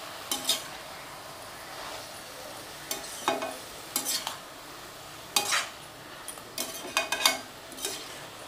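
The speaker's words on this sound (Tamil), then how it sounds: "இப்போ சேர்த்து இதை நல்லா வதக்கி கொடுத்துடலாம்." Ginger garlic paste is sautéed in a pan for a ridge gourd and prawn gravy: a faint steady sizzle under repeated spoon scrapes and clinks against the pan, close and irregular, with no talking.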